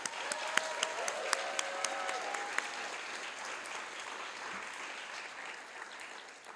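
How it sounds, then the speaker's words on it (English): An awards ceremony audience applauds performing fellows, a full continuous round of clapping with a few louder individual claps early on, gradually thinning toward the end. "Let's give them a round of applause."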